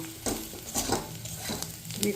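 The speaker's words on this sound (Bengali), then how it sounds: "এখন আমি সুজিটা ভাজা ভাজা করব" Semolina dry-roasting with a little salt in a pan for upma, with soft rhythmic scraping strokes of a spoon and a low rustling hiss, close and fairly quiet.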